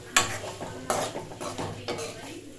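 Potato masala fry being stirred in a pan, with a spoon scraping and clinking against the metal in a few distinct strokes, close up, over a faint sizzle.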